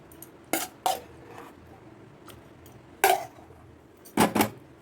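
Soaked fruits and nuts are added to caramel and mixed for a Christmas plum cake, producing a few sharp, scattered clinks and clatters of a utensil against the pan with quiet gaps between them.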